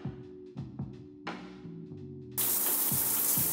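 A shower bursts on after a few soft knocks and clatters, then its water hisses steadily and fairly loudly for the rest of the moment.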